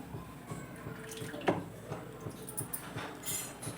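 Tap water runs steadily over chopped mint leaves in a kitchen sink, rinsed while preparing paneer biryani, a soft continuous splashing with a single sharper splash partway through.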